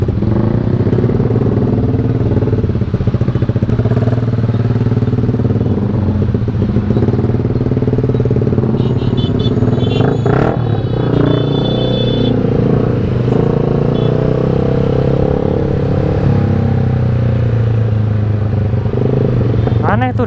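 A Yamaha MX motorcycle crawling through congested traffic, its engine a loud, continuous rumble mixed with road and wind noise. Some clatter and passing vehicles cut through midway.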